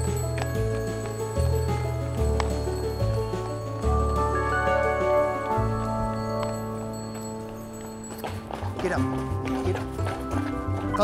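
Horse hooves clip-clop along as a carriage rolls by, with music playing steadily underneath.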